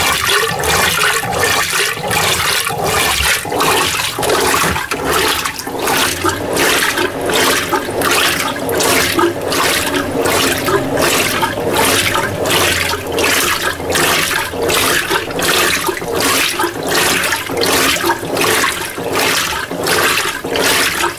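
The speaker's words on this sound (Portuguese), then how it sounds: "Esse barulho é ela sugando a água aqui dentro." A Mueller Energy 8 kg washing machine on a whites, low-level cycle drawing in water, a loud, continuous rushing and gurgling flow with a pulsing rhythm, close by and without speech.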